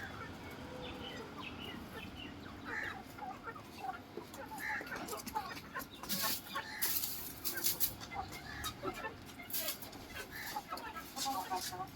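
Chickens cluck and squawk close by in a farmyard, a busy irregular stream of calls that grows livelier toward the end, over a low outdoor background.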